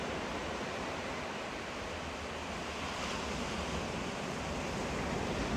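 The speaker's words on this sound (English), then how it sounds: "that rock where you can see those waves breaking," Ocean waves break against an offshore rock near a headland, a continuous broad roar of surf with wind rush, steady and fairly loud with no voices.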